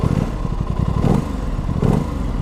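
An Aprilia RS660 motorcycle engine cranks and fires up, giving a clattery, uneven rumble with a couple of short rising revs, close by and loud.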